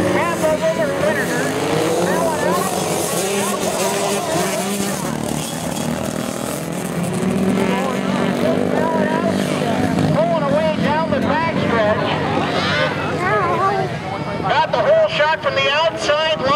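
Small 125cc motorcycles race on an ice track, several engines buzzing and revving together in a steady high-pitched drone throughout, with a person talking over the racing noise.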